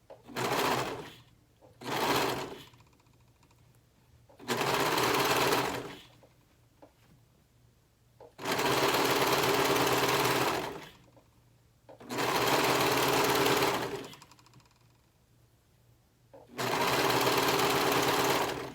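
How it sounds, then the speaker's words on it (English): A sewing machine stitches a shirt bodice onto the main fabric in five separate bursts of steady, close whirring, each a few seconds long, with quiet pauses between runs. "now we're going to be sewing onto this main piece of fabric that was on the other side"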